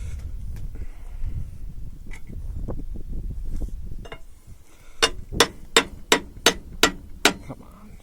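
Hammer blows on ACE sprayer pump parts during resealing, seven sharp metallic strikes in a steady rhythm after several seconds of low rumbling background noise.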